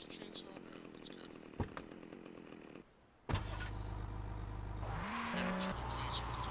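A chainsaw weapon in Grand Theft Auto: Vice City buzzes and rattles steadily alongside car engine noise, cutting out briefly before resuming with a rising mechanical whine, loud and continuous.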